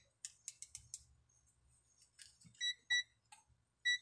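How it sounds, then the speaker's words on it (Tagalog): Short electronic beeps from a continuity tester buzzer sound in a few quick bursts while checking a clip fan, mixed with clicking and scraping of handling noise close by. "Buzzer check."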